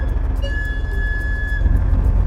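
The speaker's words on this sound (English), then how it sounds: "That's the sound of a whistle." A tugboat whistle on the Panama Canal sounds one steady, moderately loud tonal blast lasting about a second over a constant low engine rumble.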